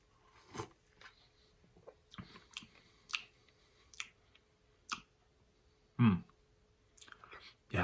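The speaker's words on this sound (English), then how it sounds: "I'm gonna try a little bit of the broth itself and see how that tastes with just the broth." Slurping and chewing while tasting the broth of Goku Uma instant hot noodles: several short, close sipping and mouth sounds spaced irregularly, with a louder slurp near the end and quiet room tone between.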